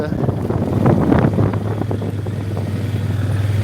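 Steady wind buffeting the microphone on a hilltop with a low rumbling roar, a brief louder gust early on, continuous throughout.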